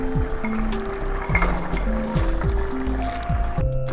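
Potatoes dropped into a pot of simmering Peruvian tripe stew, giving close liquid splashes and wet plops with a few light clinks, steady throughout.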